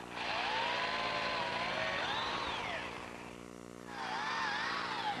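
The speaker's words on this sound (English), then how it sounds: "Next, I'm going to drill a hole all the way through, only at the center location because there's going to be a screw there." A power drill with a 3/16 inch bit boring a hole straight through oak for a coffee table, the motor whining and shifting pitch as it cuts, easing off briefly before revving up again.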